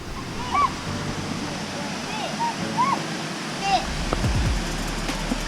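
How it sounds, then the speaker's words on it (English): A rainforest waterfall in Costa Rica pours in a steady broadband rush, with birds chirping over it and voices speaking briefly nearby. "Check out how beautiful the waterfall is."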